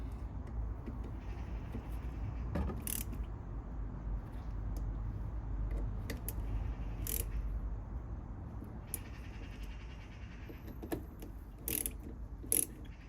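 A torque wrench tightens bolts on the fuel filter housing of a VW Sharan 2.0 TDI: quiet ratcheting clicks and faint metallic ticks recur irregularly over a low background hum, close and soft, with no talk.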